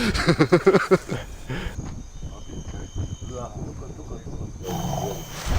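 A lion roars close by on the other side of a bush at night in the African bush, a series of deep rhythmic grunting roars at the start, with insects chirping and people talking quietly afterward.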